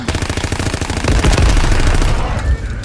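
A Chatellerault light machine gun fires in a WWII video game, a loud, close, continuous rapid-fire burst of shots that tails off near the end.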